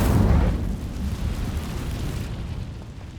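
Incendio fire spell cast in Hogwarts Legacy, a loud roaring burst of flame that flares up at once, then fades into a sustained rushing crackle, with no voices.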